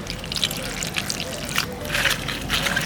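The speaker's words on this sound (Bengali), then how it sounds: "কপিটাও আমি ভালো করে ধুয়ে নেব।" Cauliflower pieces for khichuri are rinsed under running water, a steady close trickle and splash of water that swells and fades slightly as the florets are handled.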